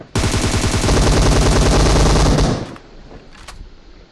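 Rapid automatic gunfire in the battle royale video game PUBG, loud and close, a dense continuous burst lasting about two and a half seconds before cutting off into faint trailing sounds.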